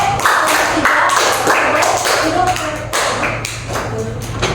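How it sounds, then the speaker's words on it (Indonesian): Applause for a student named Andre in a fifth-grade elementary science classroom during a lesson on sound. Loud, close, continuous clapping from a group of children over a few seconds, with some voices underneath. "boleh tepuk tangan buat Andre"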